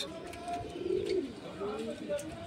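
Pigeons cooing in a Madrasi pigeon loft among white Chatiyal and Andhra birds, low soft coos repeating through the clip over a muffled background murmur.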